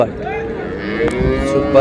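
A dairy cow moos in a long, drawn-out low call at a cattle market in Raniganj, Dinajpur, close and loud, with a second lowing sound near the end.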